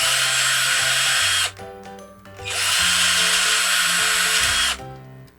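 A power drill bores out screw holes in a metal upgrade part for a WPL C74 JA11 Jimny RC model, whining loudly in two long bursts with a short pause between, pitch shifting as the bit bites.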